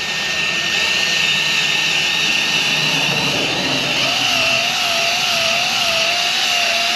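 Car buffer set on low speed, polishing red car paint with Turtle Wax heavy duty compound, gives a loud, steady, close whine with a smooth continuous drone.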